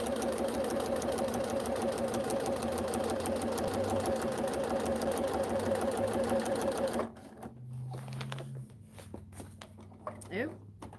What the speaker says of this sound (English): Started stitching with my foot up.